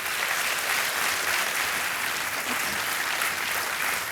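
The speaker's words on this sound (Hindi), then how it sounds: "तालियां बजती रहें इनके लिए." A studio audience at a TV quiz game show keeps up dense, even applause, a continuous rush of many hands clapping together with no break for the whole stretch.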